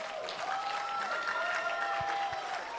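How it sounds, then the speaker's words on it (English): Audience applause for a singer walking onstage at a live music showcase, a steady wash of clapping heard alone, with a faint sustained tone running through it. "Give him a round of applause."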